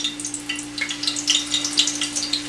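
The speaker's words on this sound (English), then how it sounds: "you want to hear that sizzle" Food sizzles and crackles steadily in hot grease, with a constant low hum in the background.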